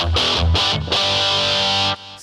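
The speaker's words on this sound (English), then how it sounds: "or distortion number 4, says shred distortion. So you got a lot of distortion." Heavily distorted electric guitar through the shred distortion setting of a vintage Korg G1 guitar distortion processor with speaker simulation: a few short chugged chords, then a long sustained ringing chord that cuts off abruptly.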